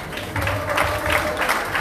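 Church congregation clapping during a sermon, a brief, fairly loud wash of applause in an indoor worship hall.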